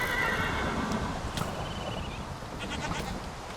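Minecraft horses whinnying repeatedly while being hit, loud and close over constant game noise.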